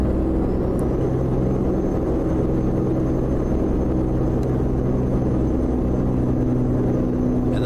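Peterbilt 389 truck engine in American Truck Simulator, a steady low diesel rumble and drone pulling a reefer trailer uphill, continuous and loud throughout with no talk.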